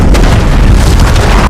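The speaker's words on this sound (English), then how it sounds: "The city is covered by an explosion." Huge explosion engulfing a city in a sci-fi movie bombardment, a very loud, sustained rumbling blast with deep booming roar throughout, dense and overwhelming, no voices.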